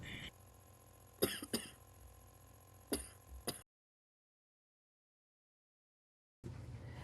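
A short run of harsh coughs and throat clearing, several bursts close together, then silence before faint background noise returns.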